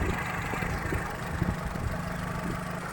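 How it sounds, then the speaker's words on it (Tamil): A Fiat Punto Avventura petrol engine idles with a reported fault: uneven revs and vibration. It gives a close, steady low rumble with a faint mechanical chatter throughout, and no voices. "ஐட்லிங் வந்து பார்த்தீங்கன்னா ஒரு கன்சிஸ்டன்சி இல்லை, ஒரு ஏற்ற இறத்தோடு இருக்குது, ஒரு வைப்ரேஷன்ஸ் இருக்குது வண்டியில்."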